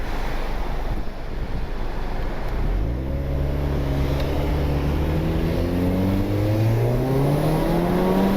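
A turbocharged Honda Civic R18 with its muffler deleted revs hard, its raw exhaust note climbing steadily in pitch over heavy wind buffeting, loud and close with no voices.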